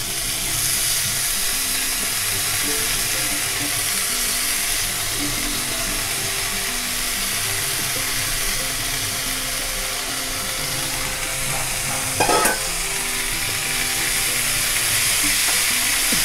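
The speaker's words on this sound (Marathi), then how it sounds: "अख्खी मोड आलेली मसूर, ती आपण याच्यावर घालून जरा परतायचं" Sprouted whole masoor lentils tossed into a hot spiced tempering and stirred in a pan, giving a steady sizzling frying hiss with faint scraping, one brief louder clatter near the end, no talk.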